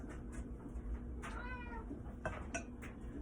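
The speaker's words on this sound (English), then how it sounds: "That's my cat, if you hear him." A cat meows several times at a water bowl in a home kitchen, the calls fairly faint and set against quiet background noise.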